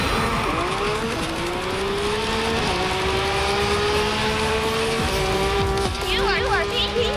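A Ferrari race car in the mobile racing game Racing Master, a loud sustained engine whine that climbs through gear shifts, ending with a brief tire squeal near the close.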